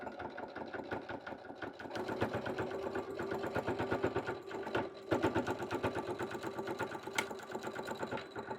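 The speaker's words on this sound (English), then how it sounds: "I'm going to back stitch and then stitch across." A sewing machine back stitches and then runs a straight seam across a puffy dish mat at a half-inch allowance, a steady close mechanical whir with a rapid needle rhythm that barely pauses at the change of direction.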